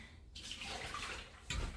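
Tap water runs steadily into a bowl while fresh produce such as cilantro is being stored, a continuous close splash with a brief louder gush near the end.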